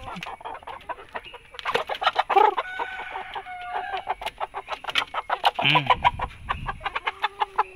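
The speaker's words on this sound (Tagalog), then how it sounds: "Malaki na yung dalawang hen na binigay mo na rooster." Chickens, including hens and a rooster, cluck close by in quick, busy bursts, with several birds calling over one another and a higher squawk now and then.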